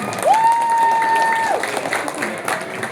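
Applause from the audience at a Vesak gathering: a dense, steady wash of clapping, with a brief sustained whistle-like tone rising above it early on.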